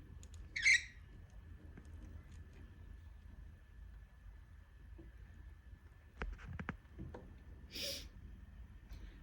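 A pet bird gives a sharp call near the start, then a few scattered squawks and rustles later, all fairly close in a quiet indoor room with a steady faint hum.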